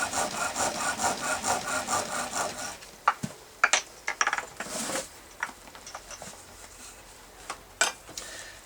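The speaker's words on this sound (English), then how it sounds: "I'm going to put a burn mark on there using this wire" Wire pressed and rubbed against a turning wooden rolling pin to burn a mark, a steady rasping friction at first, then scattered scrapes and knocks, fairly close.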